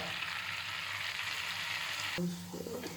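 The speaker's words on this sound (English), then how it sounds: "So we'll mix the flour with the butter and it should not form lumps." Flour is stirred into melted butter in a pan, a steady soft sizzle with faint scraping that drops and changes near the end as the mixture thickens.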